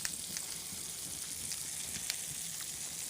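A scallop sizzles in a hot frying pan, a steady close crackle of frying with small pops and spits throughout and no talk.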